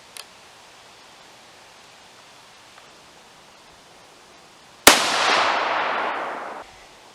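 A Howa rifle fires a 68gn Hornady BTHP round: one sharp, loud report that decays over about two seconds, with quiet ambience before it and no talking.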